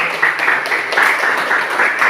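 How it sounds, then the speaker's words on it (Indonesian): Classmates applauding a student group in a biology lesson, a fairly loud, even patter of many hands clapping throughout, with slight surges and no clear speech over it. "Sekali lagi berikan tepuk tangan untuk kelompok yang"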